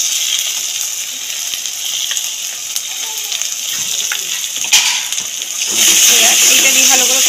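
Ground poppy seed and melon seed paste added to frying masala, giving a steady, loud sizzle that swells and grows harsher near the end, close up with no talking.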